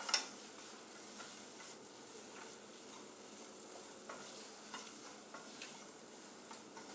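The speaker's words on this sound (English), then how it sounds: "Just keep stirring." A spoon scrapes and stirs flour gravy for chicken fried steak in a pan, with soft frying sizzle underneath and occasional light ticks of the utensil against the pan.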